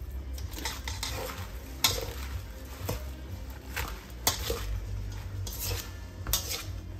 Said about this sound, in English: Now we're gonna toss all this together the way it is